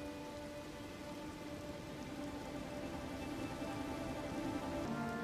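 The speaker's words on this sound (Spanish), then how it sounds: "Llueve dentro de la cueva." Steady rain falls inside a cave in the video game Elden Ring, a dense, continuous patter and hiss with a low rumbling bed that swells slightly toward the end, with no voices.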